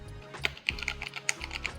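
Rapid typing on a Mountain Everest Max gaming keyboard, with crisp, closely spaced key clicks heard up close and no voices.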